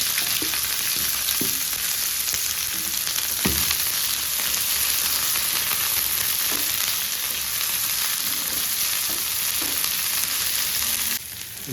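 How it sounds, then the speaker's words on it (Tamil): Onions sautéing in a hot pan for a palak paneer dish, a steady loud sizzle with occasional stirring clicks throughout, close and continuous with no voices. "இப்போ வதக்கிடலாம். அப்போது வெங்காயம் ஆட் பண்ணிக்கலாம்."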